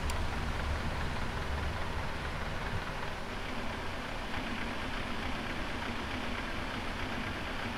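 A Boeing 777-300ER right engine starting up in the FSX flight simulator, a continuous broadband roaring rush that stays steady and fairly loud throughout, with no talk over it.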